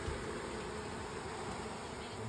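Bees buzzing during a hive re-homing at a mill house, a dense continuous drone of many insects close by, steady and unbroken over a brief stretch, with no talk.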